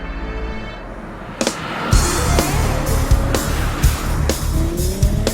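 New Mercedes-Benz SLK test car driving hard on a desert proving ground, with repeated sharp tire squeals and chirps over a loud, continuous engine and road roar.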